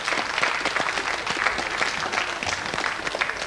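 A studio audience claps steadily at a game show, a dense, even wash of applause with no voices heard.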